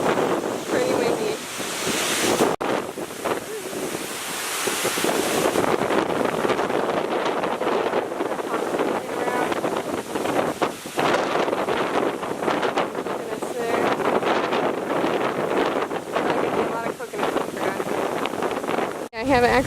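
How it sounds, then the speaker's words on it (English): Strong, gusty wind buffets the microphone on Maui, Hawaii, as Hurricane Lane approaches, roaring continuously alongside surf and ocean noise. A person talks at times over the wind. "It's pretty windy."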